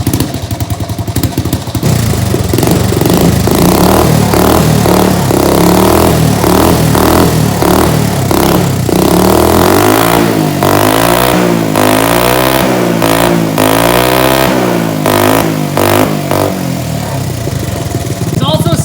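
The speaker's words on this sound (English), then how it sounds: "All right, Max, start it up." A Honda ATC 70 three-wheeler with a new exhaust starts up loud and near, idles with a popping burble, then revs repeatedly in rising and falling surges; voices can be heard over the engine.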